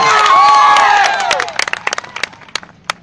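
A crowd at a political rally in Gujarat cheers and whistles loudly, then trails off into scattered, uneven claps that fade to a few isolated hand strikes.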